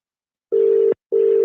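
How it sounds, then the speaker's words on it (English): Two steady telephone tones from a Vodafone voicemail line, each held for about half a second with a short silent gap between them, clear and fairly loud with nothing else heard. "This is the Vodafone voicemail."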